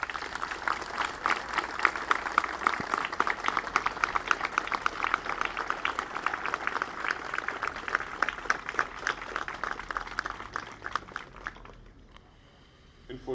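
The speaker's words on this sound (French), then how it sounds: "je vous demande d'applaudir bien fort John Schumacher" Audience applause at an outdoor commemorative walk for the 17th Airborne Division, a steady run of clapping from a moderate crowd that thins and fades out near the end.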